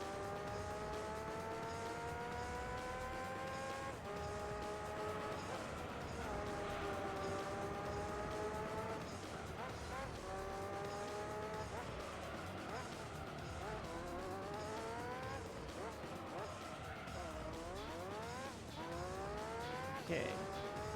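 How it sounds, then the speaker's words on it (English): High-revving F1 car engines in Gran Turismo 3 whine continuously, rising in pitch through gears with repeated upshifts and downshifts, loud and close throughout a race lap. "Really nice, authentic F1 sound effects on these cars as well."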